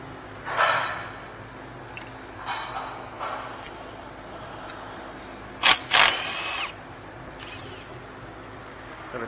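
An impact gun with a 13 mm socket removes the starter bolts on a Chevy Avalanche in a short series of buzzing rattles, with two loud close bursts near the end and quiet workshop ambience between.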